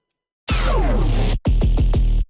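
A loud, buzzing, raw-distorted tearout dubstep bass synth plays alone: one long sweeping note, a brief gap, then a quick run of gritty, pulsing notes.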